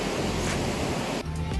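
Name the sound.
strong wind blowing on the beach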